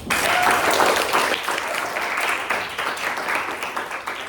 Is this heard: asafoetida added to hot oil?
no